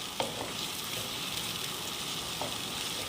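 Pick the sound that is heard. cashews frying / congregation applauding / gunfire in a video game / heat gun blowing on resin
cashews frying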